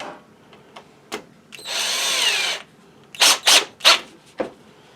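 A power tool tightens the nut on a Bolens trimmer engine during an engine swap, with a couple of short bursts, a sustained whirring run of about a second, then several quick sharp bursts, close and fairly loud.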